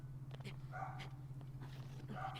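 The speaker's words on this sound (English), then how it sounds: "Puppy barking in the background." A pet dog named Puppy, nearly twelve years old, barks and yips a few times in the background, faint and intermittent beneath a steady low hum and a person talking.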